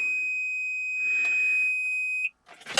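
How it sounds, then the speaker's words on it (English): Truck cab alarm in a lorry sounding a single steady high electronic tone for fob not inserted, close and continuous for about two seconds before cutting off, followed by a burst of rustling noise. "that's my alarm telling me I've not put my fob on"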